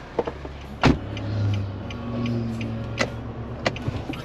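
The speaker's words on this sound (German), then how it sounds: "wir fahren hier gerade durch irgendeine so Waldstraße, richtig im Nirgendwo angekommen hier" A car drives along a forest road, its interior rumble and tyre noise steady and close, punctuated by a few sharp clicks and knocks from inside the cabin; no talking.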